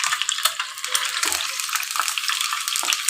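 Six peeled boiled eggs fry in a pan for egg do pyaza, a close, steady crackling sizzle with dense spitting pops running throughout and brief stirring clatter.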